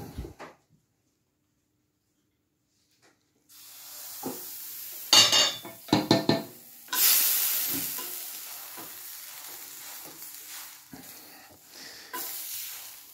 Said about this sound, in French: il n'y a plus qu'à faire cuire la crêpe. J'utilise de l'huile de pépins de raisin